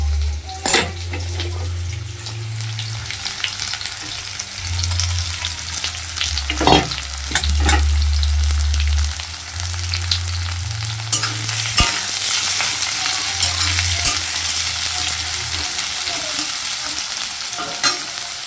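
Onions and garlic fry in a kadai for a fish kalia, a loud steady sizzle with scraping spatula strokes and occasional clanks against the pan.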